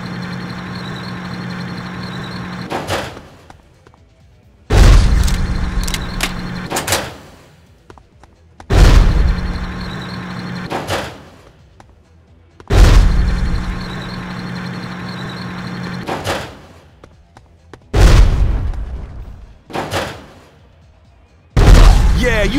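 Heavy bomb blasts in the video game Bad Boys: Miami Takedown, about six loud booming explosions at regular intervals of roughly four seconds, each decaying into a low rumble before the next hit.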